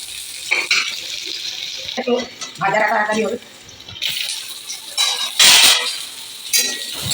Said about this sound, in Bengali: একটু লাল লাল করে ভাজতে হবে